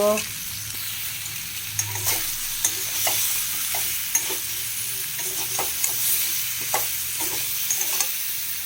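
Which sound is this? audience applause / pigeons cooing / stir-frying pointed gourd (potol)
stir-frying pointed gourd (potol)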